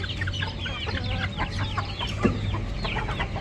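Hens clucking as they peck at chopped scraps of feed in a backyard home zoo, soft overlapping clucks and chirps continuing steadily, with a low steady hum underneath.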